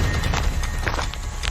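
Horse hooves clip-clopping in a close, uneven rhythm of several hoof strikes over low rumbling background noise.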